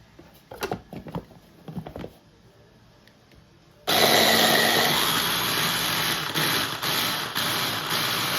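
A blender whips basil, garlic, cheese and olive oil into a sauce, starting after a few light clatters with a sudden loud, steady high whir that holds to the end, close by.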